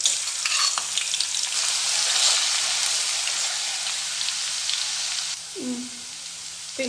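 Crushed ginger and garlic frying in hot oil for a homemade herbal oil, a loud, dense hiss and crackle close by, easing slightly near the end with a brief stir.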